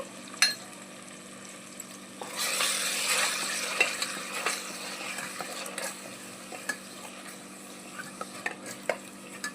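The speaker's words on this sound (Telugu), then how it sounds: "ఈ మసాలా ముద్దని కూడా ఇందులో వేసుకొని చక్కగా ఫ్రై చేసుకోవాలి" Masala paste frying with chicken in a pan, close sizzling and crackling with a loud surge of hiss as it hits, followed by stirring scrapes and scattered pops.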